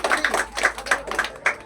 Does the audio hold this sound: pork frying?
no